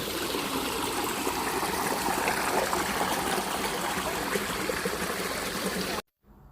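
A mountain stream rushes steadily and close by in a valley at Jungmisan National Recreation Forest, South Korea, a dense, even burble of flowing water that cuts off abruptly near the end.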